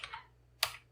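Computer keyboard typing, a couple of quick soft keystrokes followed by one sharper, louder key press, close and otherwise quiet.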